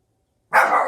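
After half a second of silence, a dog gives a single loud, close bark that carries on briefly, with no voices.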